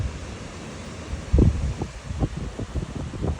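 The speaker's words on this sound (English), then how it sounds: "That wind's picking up again." Strong wind rises during a tornado storm, a steady broad rush with gusts and rustling buffeting the microphone, loud and close, with no voices.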